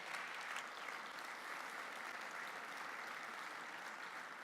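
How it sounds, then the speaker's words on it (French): An audience at a cybersecurity forum keynote applauds continuously, a dense, even wash of clapping from a large hall that holds steady throughout without any speech. "Vous pouvez applaudir Louis Pouzin."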